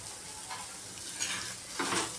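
A spatula stirs a potato and vegetable masala dosa filling in a pan over low heat, with a soft continuous scraping and a faint sizzle, close and alone.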